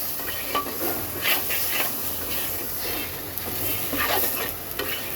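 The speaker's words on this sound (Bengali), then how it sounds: "সব কিছু একসাথে সুন্দর করে মিক্স করে দুই এক মিনিট একটু সুন্দর করে ভাজা ভাজা করব" Spice paste with ginger paste stirred and fried in a pan for a rohu fish and potato curry, a steady hiss of sizzling oil with repeated scraping strokes of a spoon, close and fairly loud.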